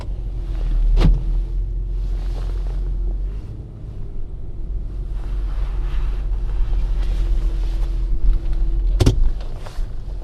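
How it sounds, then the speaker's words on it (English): Inside a moving car, a steady low engine and road rumble fills the cabin with wind noise, broken by two sharp clicks about eight seconds apart. "I'm in my car."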